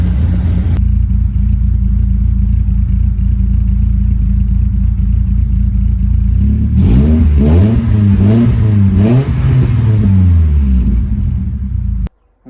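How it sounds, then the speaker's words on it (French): A cold BMW E36 idles with a deep, loud exhaust burble, then its engine is blipped through several sharp revs rising and falling in pitch before cutting off abruptly. "Juste pour qu'on entende un peu l'échappement"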